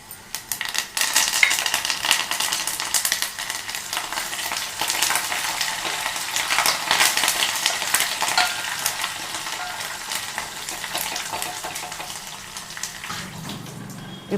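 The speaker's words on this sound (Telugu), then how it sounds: "ఇప్పుడు ఈ పోపు వేగిపోయింది." Garlic and a handful of curry leaves frying hard in hot oil for a tempering, a dense, steady crackling sizzle that stays loud and close throughout with no talking.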